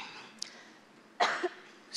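A speaker holding a handheld microphone gives one short, close cough after a brief faint click, with quiet room tone around it.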